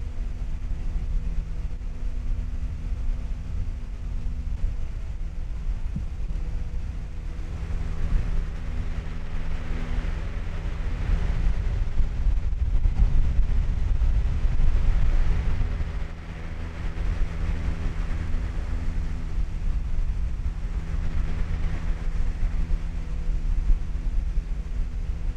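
Wind blowing straight at an Aputure V-Mic D2 microphone fitted with a windshield outdoors, heard as a steady low rumble that swells and buffets midway, with no talk.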